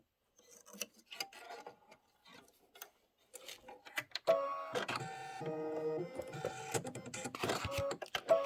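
An embroidery machine stitches a pumpkin placement line, starting with sparse clicks and taps that build into a steady, rhythmic mechanical chatter with faint whirring tones, close up and without voices.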